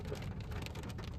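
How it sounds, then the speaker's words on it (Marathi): Heavy rain falls at night around 10:30 in Radhanagari, a dense constant hiss of drops on surfaces, loud and unbroken with no voices. "आणि पाऊस पण भरपूर असा"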